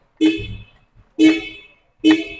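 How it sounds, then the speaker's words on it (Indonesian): Three short horn honks from a Honda Accord Excellent saloon, each a bright buzzy blast about a second apart, close and loud with quiet gaps between. "tapi klaksonnya nggak di tengah sini ya. Klaksonnya di sini."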